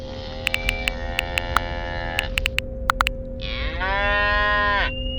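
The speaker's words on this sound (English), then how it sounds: "There they are, all 4 cows." Four cattle lowing nearby, several long moos with rising and falling pitch, over a steady low hum and scattered sharp clicks, with no talk.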